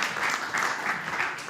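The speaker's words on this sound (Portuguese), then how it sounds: "Palmas então, Gonçalo, obrigada e parabéns." An audience at a pitch-competition demo day claps briefly, a steady, moderately quiet round of applause with a slight rhythmic pulse and no clear talk over it.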